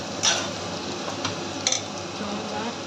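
Vegetables and cumin-coriander spice powder are stirred while frying in a pan for a dried-fish dish, giving a steady soft sizzle broken by a few sharp scrapes of the spoon.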